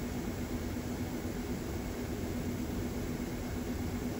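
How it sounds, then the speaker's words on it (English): A Xiaomi Air Purifier 4 Pro runs in auto sleep mode, giving a steady low hum under an even whooshing airflow that holds at a constant level with no talking. "when it's on its auto and sleep mode, there is this strange humming noise that comes up and down"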